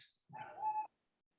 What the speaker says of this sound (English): So I can hear your dog.